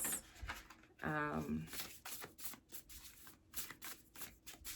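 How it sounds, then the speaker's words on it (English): A deck of slightly slick, matte-finished oracle cards is shuffled by hand in quick riffling and patting bursts, close and fairly quiet, with a brief voice sound partway through. "I will spend a lot of time just shuffling the deck, getting to kind of know how it feels in my hands"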